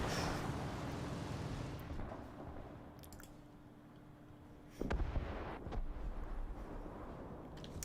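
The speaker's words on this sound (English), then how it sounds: "Of all the places to drop 4 bombs." Bombs explode in the War Thunder video game, heard as a rumbling, booming wash that fades, then a fresh deep blast strikes midway and rolls into crackling low rumble.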